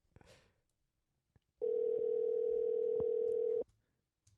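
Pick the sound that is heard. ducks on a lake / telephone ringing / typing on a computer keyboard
telephone ringing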